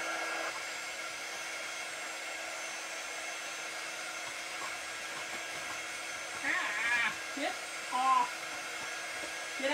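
A hair dryer drying a craft flower blows in a steady, fairly faint whir throughout, with a little faint talk near the end.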